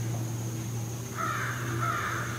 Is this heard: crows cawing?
yes